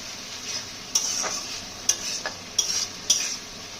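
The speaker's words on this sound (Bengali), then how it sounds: "আমরা মাছের মশলাটা ভালোভাবে কষিয়ে নিচ্ছি।" A rohu fish head and masala are stir-fried in a pan along with potatoes and ridge gourd. A low sizzle runs underneath as a spatula scrapes and knocks against the pan in several distinct strokes, with no talking.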